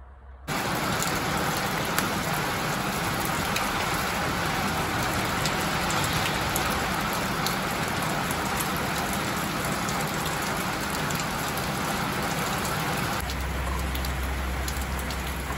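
Steady rain pours down without a break, a dense even hiss of drops hitting surfaces nearby.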